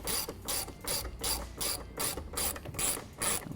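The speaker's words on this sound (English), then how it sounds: "use our T40 Torx bit, get it tightened down" Ratchet with a T40 Torx bit tightening the factory bolts on a replacement manual exterior mirror of a Jeep JK Wrangler, giving about eight quick bursts of clicking at a steady rhythm, close and alone.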